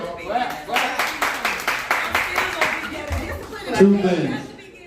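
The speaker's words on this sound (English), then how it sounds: "Clap it up." An audience claps in a quick run of sharp, evenly spaced hand claps lasting a few seconds, then trails off into chuckles and a murmur of chatter.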